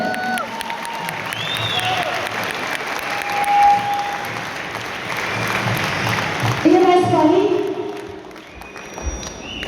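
Loud, sustained applause from a large audience at a ceremony, with cheering and an announcer's voice heard over the clapping throughout.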